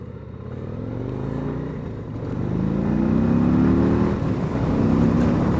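A 2023 Harley-Davidson CVO fitted with BST carbon fiber wheels pulls away hard from a stop, a deep, loud engine note rising steadily in pitch as it accelerates, up close and without talk.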